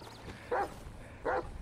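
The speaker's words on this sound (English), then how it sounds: "Watch, Django's gonna keep barking at him" A police Rottweiler barking in GTA 5, two distinct barks about three quarters of a second apart, moderately close over a quiet low background.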